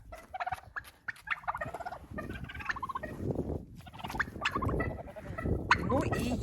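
Poultry let out of a coop to roam and peck at grass and stones, a busy flock of birds gobbling and clucking in overlapping bursts, close and lively, with a faint voice mixed in at times.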